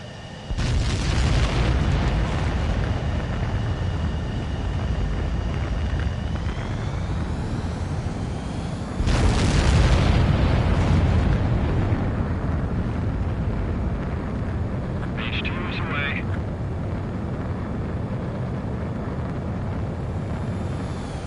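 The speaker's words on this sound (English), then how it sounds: "begin takeoff sequence. You're cleared for launch." Jet fighter launching in Ace Combat 7, a loud continuous engine roar that surges in two big bursts near the start and midway, with a sustained rumbling thrust throughout and a brief higher whine later on.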